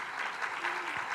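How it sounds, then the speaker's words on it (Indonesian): A church congregation in Indonesia applauds during a worship service, broad, even clapping filling the room without a break and no voice standing out above it. "Sekali lagi berikan tepuk tangan bagi Tuhan kita Yesus."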